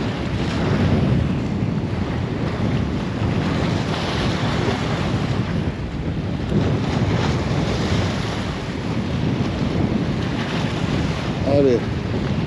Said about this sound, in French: Tellement de vent, c'est abusé.